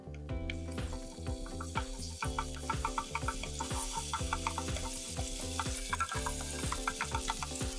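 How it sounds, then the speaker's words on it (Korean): Minced garlic stir-frying in oil for mala ramen, a soft continuous sizzle sitting under steady rhythmic background music. "이제 기름을 두르고 마늘을 볶아줍니다."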